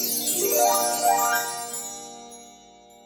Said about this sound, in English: It's time to get up because it's chime time.